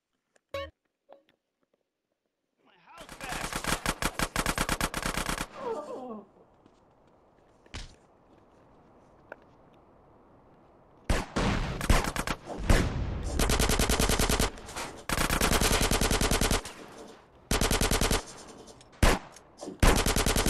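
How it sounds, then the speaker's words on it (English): Gunfire in Grand Theft Auto San Andreas, long bursts of loud close automatic fire broken by silent gaps and single shots, with a quieter stretch of background noise in between. "Why am I shooting Caesar?"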